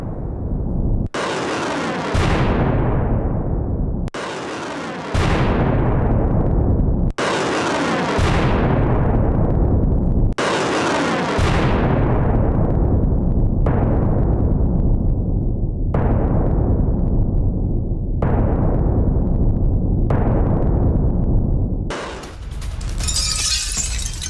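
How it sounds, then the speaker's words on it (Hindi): Loud, heavy blasts from Iskander ballistic missile strikes in Ukraine come one after another, about eight in a row, each roaring and then slowly dying away. "रूस ने यूक्रेन पर स्कंदर मिसाइल दागी है"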